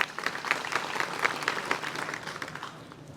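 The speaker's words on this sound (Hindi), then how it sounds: "भाई जी के लिए जोरदार तालियां बजाना।" Audience applause for a Brahmakumaris speaker at a spiritual talk inside a jail, steady dense clapping from a crowd for about three seconds with no talking over it.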